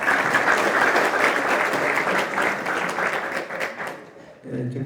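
Dense, steady applause from an audience at a graduation ceremony, loud and sustained for several seconds before thinning out near the end.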